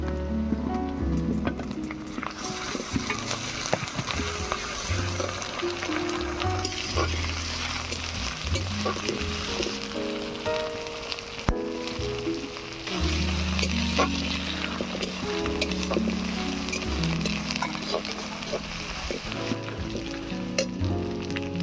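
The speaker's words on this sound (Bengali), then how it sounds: "এবারে দিয়ে দিচ্ছি পেঁয়াজ কুচি। এবারে দিয়ে দেব আদা রসুন বাটা।" Chopped onion and ginger-garlic paste fry in hot oil for a chicken and chana dal dish, a continuous crackling sizzle with repeated spatula scrapes and stirs throughout, close and fairly loud.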